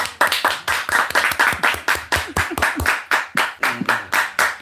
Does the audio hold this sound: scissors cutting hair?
no